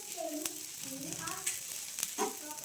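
A dosa sizzles in ghee on a hot pan, a faint, close crackle with a few soft clicks and scrapes and some quiet talk over it.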